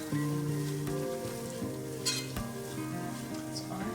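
Sausage gravy is whisked in a pan: a steady close sizzle and stirring with scraping strokes and a few sharp taps of the whisk against the metal.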